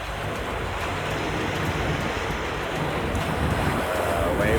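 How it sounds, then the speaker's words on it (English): Steady rushing wind of about 10 knots and ocean waves around 6 feet high wash over the whole stretch at sea, loud and constant, with no voices. "Waves are around 6 feet, wind is 10 knots"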